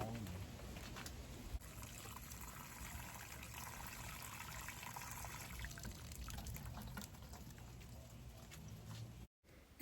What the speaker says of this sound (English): I'm showing you here how that little draining tube works on the spinning base for the Green Stalk